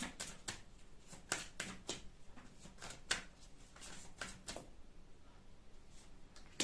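Tarot cards being shuffled and drawn, a string of quiet, crisp riffles and snaps in an irregular rhythm, faint and close, with no talking.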